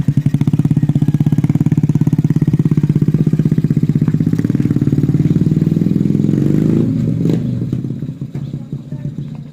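A motorbike engine hammers loud and close with a rapid pulsing beat during a burnout, then it stutters and drops off near the end while voices chatter over it.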